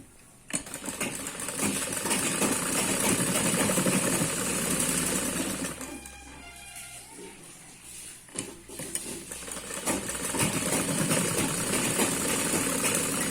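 A sewing machine joins the back and front panels of a long umbrella frock, whirring steadily and loudly for most of the stretch, easing briefly midway before picking back up at full pace.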